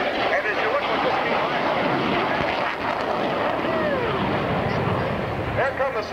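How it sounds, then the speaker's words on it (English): CF-101 Voodoo jet fighters flying past at an air show, a continuous loud jet roar with shifting whines, heard under a man's announcer-style commentary. "here come the CF-101 Voodoos"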